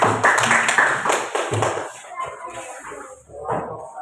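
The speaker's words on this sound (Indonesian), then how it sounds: "Kasih tepuk tangan." Children in a second-grade Pancasila class clapping for a group presentation, a burst of close, uneven handclaps that thins out after the first second or two while voices continue in the room.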